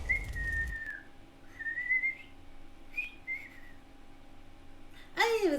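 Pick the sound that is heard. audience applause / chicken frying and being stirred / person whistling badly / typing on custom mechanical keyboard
person whistling badly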